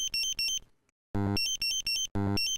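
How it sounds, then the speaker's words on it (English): Dräger X-am 2500 portable gas detector sounding its alarm: loud, shrill electronic beeping in rapid repeated bursts, broken by a brief silence, with no talk. "the audible, visual and vibration alarms are repeated"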